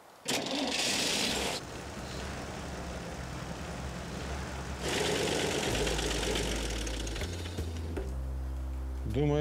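A car engine idles with a steady low rumble and a sewing-machine-like rattle, its level shifting in stages, while dramatic music plays over it near the end.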